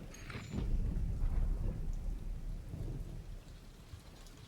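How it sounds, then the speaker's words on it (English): Rain and thunder in the video game The Division 2: a steady hiss of rainfall with low, rolling thunder rumbling underneath, fairly quiet and continuous without talk. "Now it's raining just to make things a little bit more difficult."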